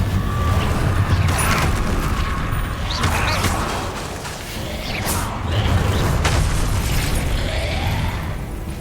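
A fire spell cast in the game Hogwarts Legacy, loud whooshing bursts and rumbling blasts over continuous dense combat noise, with brief crackles and pops throughout.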